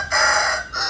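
A Sindhi Aseel rooster crows once, loud and close, its long sustained call breaking off briefly before resuming, with no other sounds around it.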